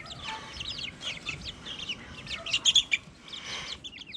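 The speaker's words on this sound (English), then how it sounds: "We also got some bantams in here." Bantam chickens on a farm cluck and chirp in quick, overlapping bursts nearby, with a louder flurry of calls toward the middle.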